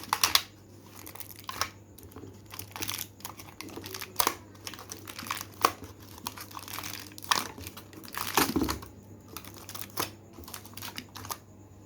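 Foil paper crinkled and pressed over the mouths of homemade milk ice cream containers, producing close, irregular crackling and rustling bursts with one louder crumple near the end.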